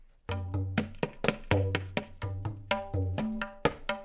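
A tabla plays a kaida, a quick pattern of sharp strokes and booming, pitch-bending bass hits, close and alone.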